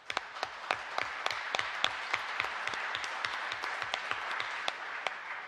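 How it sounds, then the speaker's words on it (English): A small audience at a Pennsylvania policy committee hearing applauds, steady rhythmic clapping with distinct individual claps punctuating a moderate, even wash for several seconds. "You should applaud yourselves for being here."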